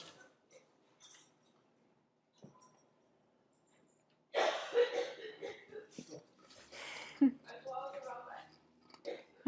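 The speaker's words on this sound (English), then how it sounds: "my mom is coughing in the background" A woman coughs and splutters a few times in the background, intermittent and fairly faint, with breathy sounds between bursts.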